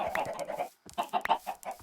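A Minecraft chicken clucks in quick bursts, a short run of choppy clucks, a brief pause, then another cluster, close and clear with no talk.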